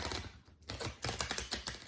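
Rapid papery riffling and tapping as a deck of tarot cards is shuffled close by, in quick irregular bursts with a brief pause.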